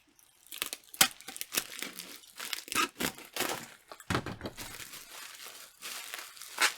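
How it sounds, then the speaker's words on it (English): Packing tape being pulled and handled while packing items for shipping, heard as a string of crinkling, tearing bursts of irregular rhythm, close and moderately loud, with no talking. "So my tape isn't cooperating."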